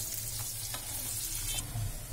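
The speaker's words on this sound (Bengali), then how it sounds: "পেঁয়াজটা যখন সুন্দর করে ভাজা হয়ে গেছে" A large chopped onion fries in hot oil in a pan. It gives a steady, close sizzle with faint crackles and pops throughout, and no voices are heard.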